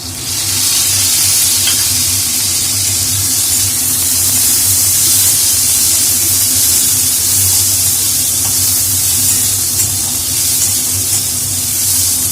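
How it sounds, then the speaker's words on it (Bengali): Chopped tomato hits browned onions in a hot pan with a loud, dense, continuous sizzle and steamy hiss, and stirring runs underneath, all with no voices. "পেঁয়াজগুলো ব্রাউন হয়ে গেছে এরপর আমি এর মধ্যে টমেটো কুচি দিয়ে নেবো"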